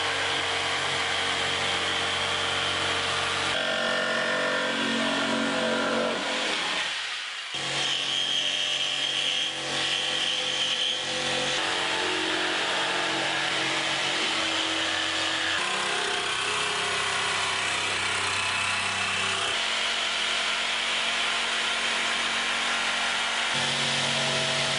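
A Bosch GST 140 jigsaw cuts through material with a loud, continuous buzzing rasp, its blade strokes shifting in tone as the cut changes, with one brief pause midway before resuming, close-up and without talking.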